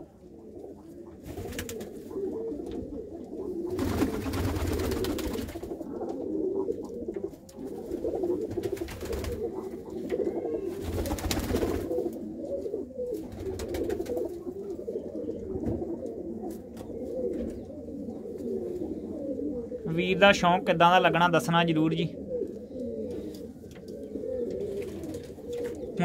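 In a Gurdaspur loft full of large pigeons, the birds coo continuously in an overlapping murmur at close range, broken by several sharp flutters and a short buzzy sound near the end, while someone speaks briefly over them.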